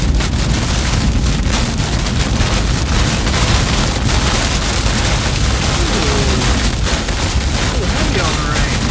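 Heavy rain pounds a vehicle during a storm chase near the McComb storm cell on I-55, a dense, loud, steady roar of drumming water and wind noise with occasional sharper impacts.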